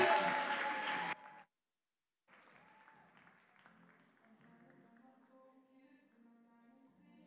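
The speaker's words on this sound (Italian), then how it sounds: "Allora facciamo un applauso ai nostri ospiti" Audience applause for guests at an Italian Good Friday comedy show, a dense burst of clapping for about a second, then a pause before speech and quieter room sound follow.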